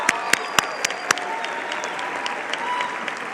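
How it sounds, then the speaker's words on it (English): Commencement audience at South Mountain Community College applauding: a few sharp, distinct claps ring out first, then merge into a steady, dense wash of clapping from a large crowd that holds at an even level. "let's give that a round of applause."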